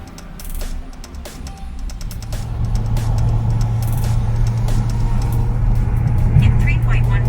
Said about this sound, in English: Let me go ahead and start driving home